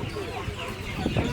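Chickens cluck in a short burst nearby at an outdoor market in Almeirim, Portugal, on a windy day, the clucks mixed with background noise.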